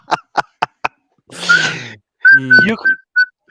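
A few sharp taps and a breathy burst come first, then a whistle sounds several short toots in quick succession.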